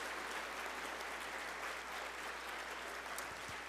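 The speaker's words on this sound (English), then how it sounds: "let's give him a final round of applause for his presentation today" An audience applauds after a workplace-leadership presentation, a faint, distant wash of continuous clapping that holds evenly throughout.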